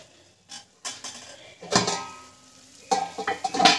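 A lid goes onto a pot of desi chicken roast in a home kitchen, with close metallic clanks and scrapes at scattered moments over a faint sizzle.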